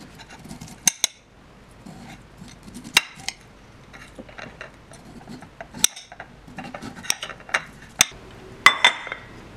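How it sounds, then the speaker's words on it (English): A knife slices kernels off a corn cob onto a small plate, giving soft scraping and rasping strokes broken by several sharp clinks of the blade against the plate, close up and with no talk. "I'm gonna go ahead and cut my corn off the cob because this is gonna go in my salad"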